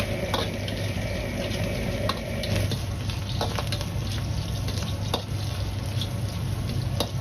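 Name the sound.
pork belly stir-frying in hot vegetable oil in a wok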